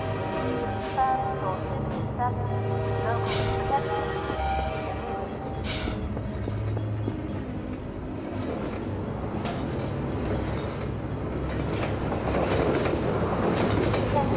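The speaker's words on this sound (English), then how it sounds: "I'm gonna wait for the choo-choo train," A train passes in the video game Half-Life 2, its rumbling wheels clattering steadily and growing louder toward the end, while people talk over it.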